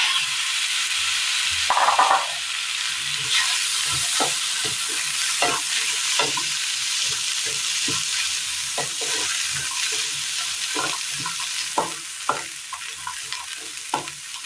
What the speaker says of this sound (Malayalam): ഇതിനകത്തേക്ക് നമുക്ക് വേവിച്ച് വെച്ചിരിക്കുന്ന കടല ഇട്ട് കൊടുക്കാം.